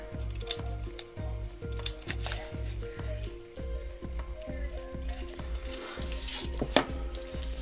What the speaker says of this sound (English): Just trimming that tiny little extra bit there.